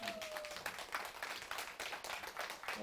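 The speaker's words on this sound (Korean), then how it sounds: "오늘 좋은 말씀해 주신 우리 이종표 회장님께 큰 박수를 드리겠습니다" A lecture audience at a community researcher training course applauds the chairman after his talk: continuous clapping from a group, faint and distant, without talk over it.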